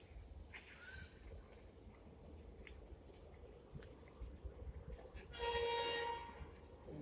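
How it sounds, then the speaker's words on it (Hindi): A double-decker train approaches Patel Nagar railway station amid a low rumbling background, with a brief louder burst resembling a horn or brake squeal near the end; faint distant voices around. "गाड़ी आ रही है"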